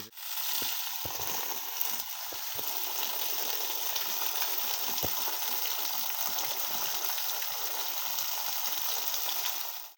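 Water from a DC submersible mud pump pours onto a variegated guava tree, making a constant close rushing, splashing hiss that holds steady for the whole stretch with no talk.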